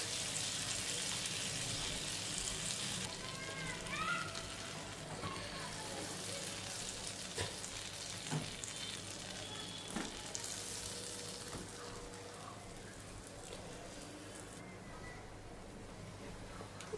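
Paneer burger patties fry in butter, giving a constant crackling sizzle that rises and settles over several seconds, with faint clatter and occasional bright pops throughout.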